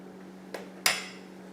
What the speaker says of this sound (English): Scrape off all my paste with my other spoon